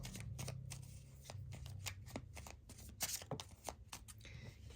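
Tarot cards shuffled by hand up close: quick, irregular riffles and soft slaps of card stock repeat in bursts, with no talking.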